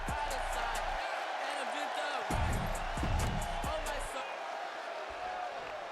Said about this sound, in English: Crowd hyped up for Dominic Felix.